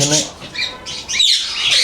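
A ringneck parrot at a parrot farm in Bangladesh gives loud, harsh squawks in quick bursts, close by, with a voice faintly in the background.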